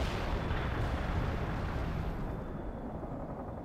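Incoming artillery fire in the war strategy game World in Conflict, a dense continuous rumble of shelling and blasts filling the scene at steady loudness, fading slightly toward the end, with no talking.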